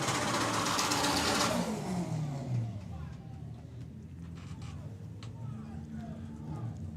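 Drag racing cars launching at a Doorslammers event, a loud engine roar that sweeps down and fades into the distance, leaving crowd and track ambience.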